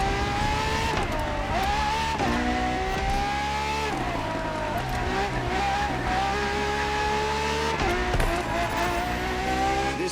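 Ferrari FXX K supercar engine in The Crew Motorfest racing game, a loud continuous high-pitched wail that climbs and drops with gear shifts, close and steady with no talking.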